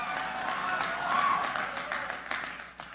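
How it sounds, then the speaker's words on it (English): An audience at a benefit event applauds, with a brief burst of many hands clapping at moderate distance, swelling slightly before tapering off. "worthy of applause."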